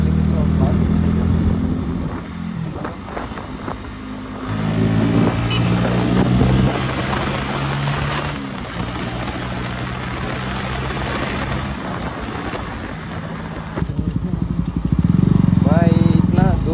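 A Bajaj Pulsar NS200 motorcycle engine revved repeatedly toward the rev limit on a sunny ride, loud and close with rising and falling pitch, while someone talks over it.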